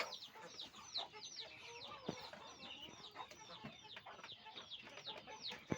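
Chickens clucking and squawking continuously at a poultry farm that also raises Muscovy ducks, a busy overlapping chorus of short calls at moderate distance, with no speech.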